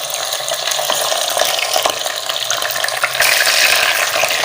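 About a kilo of chicken leg pieces frying in a handi pot for handi biryani, a steady loud sizzle with bursts of crackle and occasional stirring scrapes, close and continuous, growing brighter near the end.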